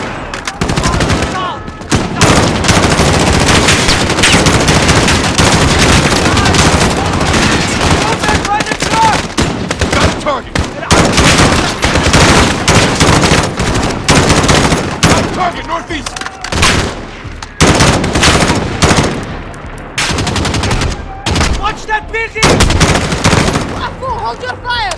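Dense, loud gunfire from Call of Duty: Modern Warfare, with rapid automatic bursts and heavy shots running almost continuously, some brief lulls, and occasional voices mixed underneath.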